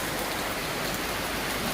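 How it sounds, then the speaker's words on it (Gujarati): Steady rain falling, a dense even hiss of drops on a surface, continuous and fairly close with no voices. "આ વરસાદ અત્યારે સારો ગણવો કે ન સારો ગણવો"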